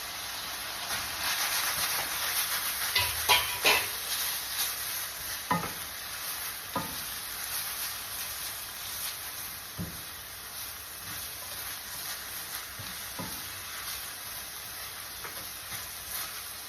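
Pansit canton noodles stir-frying in a hot pan give a constant bright sizzle and hiss, broken by occasional scraping knocks of a utensil tossing them, close and steady with no voices.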